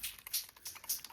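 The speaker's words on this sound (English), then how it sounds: "I'm going to spray it with some water just to break up the" Water misted from a spray bottle onto paper being dipped and dyed in fall colours, heard as quick, soft, uneven hissing spritzes with a light patter, close and quiet.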